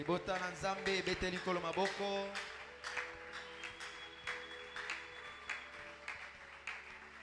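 A church congregation applauding, scattered claps under a voice singing or speaking over music, which then settle into irregular, faint clapping in a reverberant room.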